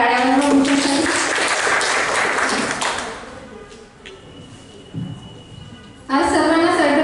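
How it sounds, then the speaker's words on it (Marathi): An audience at a poetry recitation contest in Nagpur gives loud applause that fades out, then a brief pause with a tap before clapping and voices rise again, with talk mixed in. "सर्वांनी एकदा जोरदार टाळ्या वाजवा भूषणसाठी"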